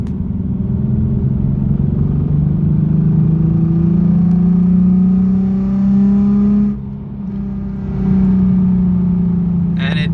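A Nissan 370Z with a muffler delete accelerates hard in second gear, its loud raspy exhaust climbing steadily in pitch before a brief drop and a renewed pull, close and dominant throughout.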